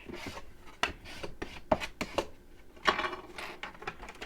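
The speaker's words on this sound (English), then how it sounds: "let's give that a burnish." Paper for a writing pad folio is burnished by hand, with close dry rubbing strokes and scrapes in an uneven rhythm and several sharper accents, heard alone.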